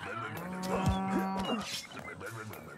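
A cow moos in the Western game Rustler, a drawn-out, pitch-bending low call that dips and rises near the middle. It sits over rustling ambience and faint background noise.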